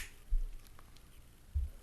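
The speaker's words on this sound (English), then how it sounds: "I'm going to snap my fingers" Two crisp finger snaps ring out alone, the first near the start and the second just before the end, with quiet room tone between them.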